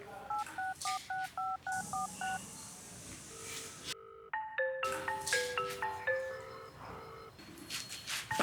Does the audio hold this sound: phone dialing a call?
yes